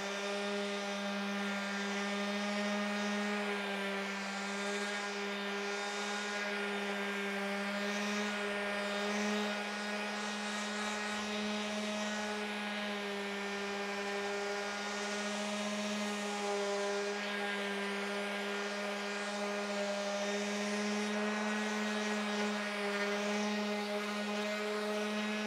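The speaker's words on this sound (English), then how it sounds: "they use an orbital sander so they don't do this by hand" Steady, loud orbital sander running continuously on a 30-year-old Sears Craftsman table saw under restoration, a constant tonal motor whine with an even buzzing drone throughout and no pauses.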